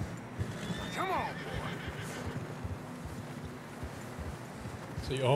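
A horse in Red Dead Redemption 2 whinnies loudly and close near the start while its hooves clop steadily through fresh snow, a softer whinny returning at the end over a windy ambience.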